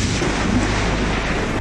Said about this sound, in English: Lightning cracking the sky over Pennsylvania.